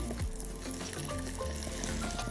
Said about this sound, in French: Je vais poêler de chaque côté le foie gras.